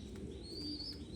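Pigeons in a home loft giving a soft, faint coo against a quiet background hum, a brief low murmuring call with no voices present.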